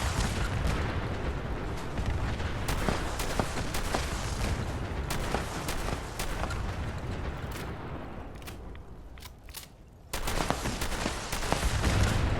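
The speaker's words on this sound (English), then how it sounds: "This is for you guys, some fireworks!" Fireworks in the Fallout 76 video game, with a dense run of loud sharp bangs and crackling bursts, a brief dip near the end, then more pops.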